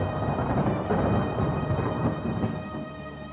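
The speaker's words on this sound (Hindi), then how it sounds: "अगले दिन बहुत जोरों की बारिश हो रही थी।" Heavy rain pours steadily with low rolling thunder rumbling beneath it, a dense continuous roar with no talking.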